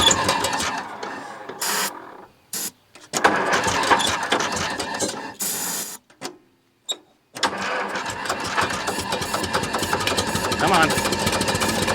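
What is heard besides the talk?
1941 IH TD-14 dozer engine starting and running on ether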